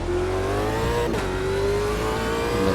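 Super V8 race car engine in Automobilista 2 on the Adelaide track, a loud close sustained roar climbing steadily in pitch with a brief shift dip partway before revving up again.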